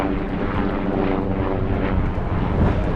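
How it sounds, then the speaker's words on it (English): A steady helicopter engine drone fills the whole stretch, a low rumbling hum from an offshore helicopter passing overhead at a moderate distance near the Norfolk coast, with some wind noise. "That's one of the offshore helicopters flying back to Norwich."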